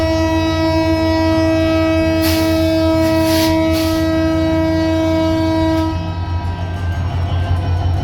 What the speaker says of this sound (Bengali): ঢাকাগামী পঞ্চগড় এক্সপ্রেস 6633 সিরিজের লোকোমোটিভ নিয়ে জয়পুরহাট রেল স্টেশন থেকে ছেড়ে যাচ্ছে ঢাকা অভিমুখে।